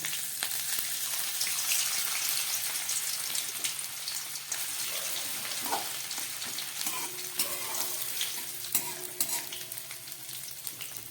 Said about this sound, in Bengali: ফোড়নটা ভাজা হয়ে গেছে। এবার এর মধ্যে দিয়ে দেবো কিছুটা গ্রেট করা আদা।